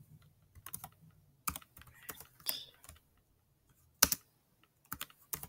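Computer keyboard typing while writing HTML code, short bursts of crisp key clicks and clacks separated by pauses, close and fairly quiet, with no talking.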